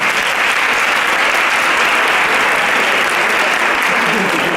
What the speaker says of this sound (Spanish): Un aplauso para Juliana.